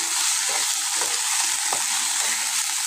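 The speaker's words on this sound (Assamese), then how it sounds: "আৰু ইয়াত দি দিছোঁ মই এতিয়া হালধি, জোখমতে হালধি দি দিব, আৰু হালধি দি প্ৰথমে লৰাই ল'ব।" Fish coated in turmeric fries in a pan for an Assamese fish curry, giving a loud, continuous sizzle with a few soft stirring scrapes and no talking.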